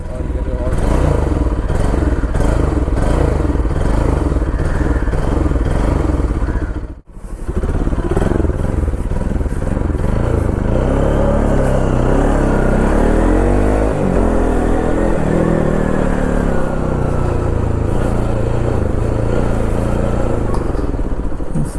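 A Bajaj Pulsar NS200 BS3 motorcycle engine runs loud and close for the whole stretch, a dense steady rumble that cuts out briefly near the start before picking straight back up.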